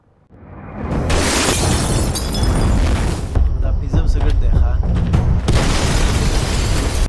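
A building is blown up in an action film, a loud explosion with shattering debris, followed by a sustained rumbling roar and crackling that continues to the end.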